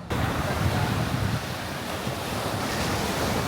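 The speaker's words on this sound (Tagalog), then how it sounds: "Lakas ng alon, no?" Loud, continuous surf of strong waves crashing on a Boracay beach, with heavy wind buffeting the microphone throughout.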